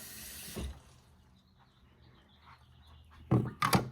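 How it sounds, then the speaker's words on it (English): Water trickles steadily from a Lavazza Classy Plus coffee machine during a descaling cycle, a soft continuous flow with faint chirps behind it and a couple of louder splashing bursts near the end. "This water is not coming out hot, by the way, so it's not heating it while it's descaling it."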